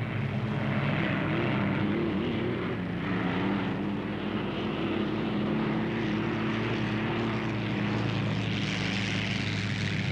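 Unlimited hydroplane racing boats power out of the turns toward top speed, a loud continuous engine roar filling the scene without pause and with no talk over it.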